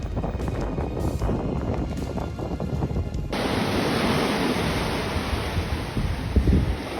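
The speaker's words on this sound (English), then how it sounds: "The strong wind blew the snow, making Mount Singunyan even more magical than ever." Strong wind blowing snow on a mountain peak, a loud continuous roar of rushing air that buffets the microphone, with no voices.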